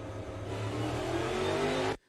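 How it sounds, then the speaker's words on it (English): A NASCAR race car on a restart accelerates early before the line, a loud, roaring engine building steadily and then cutting off abruptly at the end. "You will see and hear that Denny Hamlin accelerates before he gets to that line."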